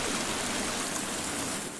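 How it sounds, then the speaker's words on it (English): A loud waterfall in the video game The Forest, a constant broadband rushing roar that fills the whole stretch evenly with no voices heard. "that waterfall is so loud"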